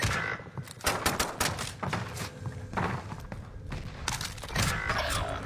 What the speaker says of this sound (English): Bro, he's shooting through.